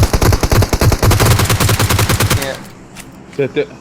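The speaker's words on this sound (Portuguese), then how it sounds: "Acertei um tiro no braço dele, mano." Rapid automatic gunfire from a shooting video game hammers out in a dense, loud, close burst for about two and a half seconds, then cuts off, leaving faint game noise and a couple of brief clicks.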